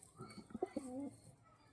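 A pure white pet pigeon of a prized Kalanka breed gives a short soft cooing call close by, a few low throaty pulses rising and settling within about a second in a quiet setting.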